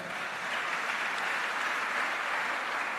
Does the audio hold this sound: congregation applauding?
yes